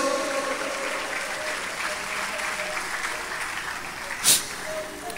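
Applause from a church congregation rolls on steadily at moderate loudness, with one sharp louder clap or knock near the end.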